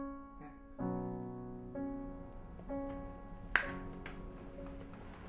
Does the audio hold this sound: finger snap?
yes